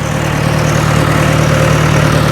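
A heavy tractor engine idles loudly and steadily up close during hay baling, a constant low throbbing rumble with no talking.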